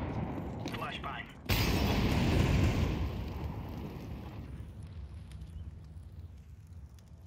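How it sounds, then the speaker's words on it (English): A flashbang grenade goes off in Counter-Strike 2 with a sudden loud burst, followed by a long ringing hiss that slowly fades over several seconds. "Throwing flashbang."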